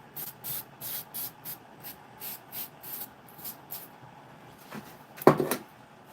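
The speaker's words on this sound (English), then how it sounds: "Just spray this on here and leave it on a minute." Cleaner is sprayed onto a dirty knife in a run of about ten quick, close hissing bursts from a trigger sprayer, followed by a knock and a brief rustle.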